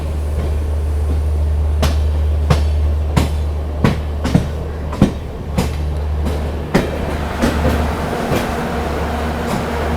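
Amritsar Swarn Shatabdi Express running near Delhi Sadar Bazar railway station, with a loud steady low rumble from inside and sharp rhythmic clacks of wheels over rail joints at irregular intervals.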